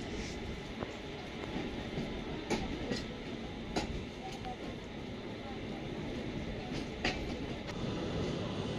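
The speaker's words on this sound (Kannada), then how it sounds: "ಪ್ಲ್ಯಾಟ್ಫಾರಮ್ 6ಕ್ಕೆ ಪುಣೆ ಜಂಕ್ಷನ್ಗೆ ಎಂಟ್ರಿ ಆಗಿದೆ ನಮ್ಮ ಟ್ರೈನು." The Udyan Express rolls into platform 6 at Pune Junction at night, a steady low rumble with periodic clanks and rail clicks, fairly close, a faint voice mixed in.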